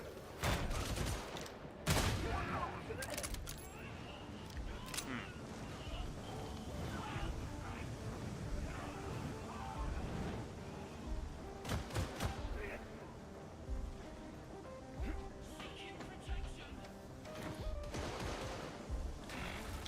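Headhunter autogun fire in Darktide, loud bursts of rapid shots in a busy combat mix, with sharp volleys clustered early and again around the middle, over constant background battle noise.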